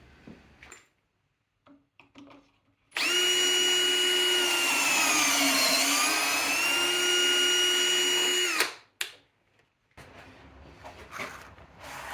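An electric drill bores pocket holes through a jig into 2x6 and 2x4 timber for an outdoor picnic bench, giving one loud sustained whine of about six seconds that dips slightly in pitch midway, close up and framed by quieter workshop handling.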